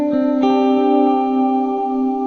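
Sustained guitar chord run through a Dispatch Master delay and Disaster Transport SR reverb, ringing out steadily with a thick, washed tail and a faint re-strike near the start, alone with no voices.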